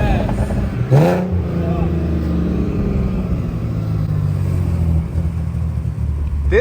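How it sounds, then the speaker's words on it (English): Loud car engine revving while driving at night, a low steady rumble with rising revs throughout, and a voice briefly shouting over it. "This car is way too loud"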